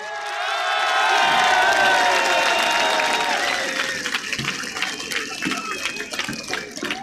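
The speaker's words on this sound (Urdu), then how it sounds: "ہاتھ اٹھا کر تالیوں کی گونج میں بتائیے کتنا پیار کرتے ہیں آپ عمران خان سے" A political rally crowd for Imran Khan in Rawalpindi swells into loud cheering and clapping as a voice calls out over it, then the roar breaks into ragged applause.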